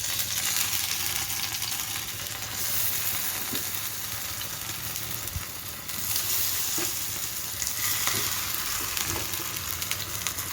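Pakoras fry in a pan of hot oil, added one at a time, with a dense, steady sizzle throughout and a few faint clicks and taps in the later part.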